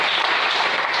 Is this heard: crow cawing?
no